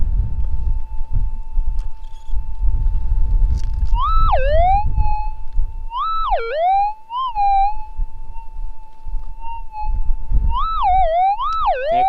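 Gold detector tone while prospecting outdoors: a steady electronic hum that rises and warbles into repeated swooping signals, loud and close over rumbling wind noise.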